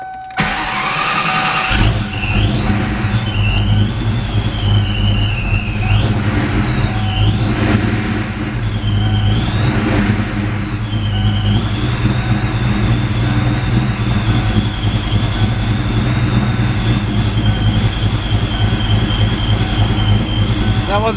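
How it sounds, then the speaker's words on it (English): A Ford Mustang 4.6 V8 with no idle air control starts cold, then idles loudly and close with a deep, steady rumble, its revs wavering up and down in the first seconds before settling into an even drone. "this is a cold start with no idle air control."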